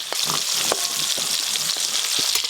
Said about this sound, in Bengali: আজকে গন্ধরাজ ইলিশটা আমি হালকা করে ভেজে করছি